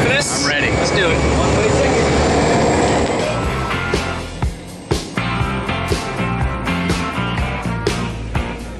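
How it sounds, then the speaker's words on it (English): Propeller aircraft engine roars loudly at takeoff for a tandem skydive, a steady broadband drone that later gives way to thumping bumps and clatter inside the cabin. "Taking off in our plane that we're not going to be landing in."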